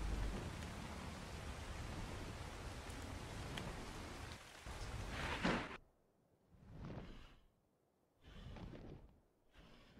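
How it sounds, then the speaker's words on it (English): Heavy rain from a thunderstorm in the video game Ark pours as a dense, steady wash for several seconds, then cuts to near silence broken by two shorter bursts of rain noise. "That storm was actually really loud in my ears today."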